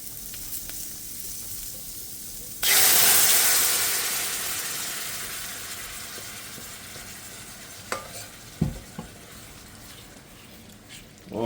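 Sauce poured into a pan of sizzling sweet and sour chicken sets off a sudden loud burst of hissing sizzle that slowly fades, with a few clinks and scrapes of stirring later on.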